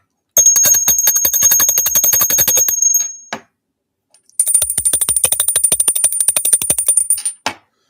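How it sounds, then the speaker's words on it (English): Hand bells with copper and brass handles, one using a .223 shell casing, ringing in two bursts of rapid, bright metallic strikes with sustained high tones, each burst ending in a few last rings, close and loud with no talking. "Now those are completely different sounding than the silver bells."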